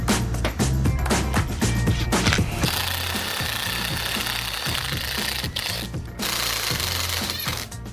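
A hammer drill bores into concrete nearby, a loud, continuous rattling grind with brief pauses and shifts in pressure.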